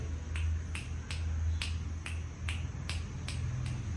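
Finger snaps made to coax a cobra upright on a house veranda, about nine crisp snaps at a loose, roughly even pace over low steady background hum, no talking.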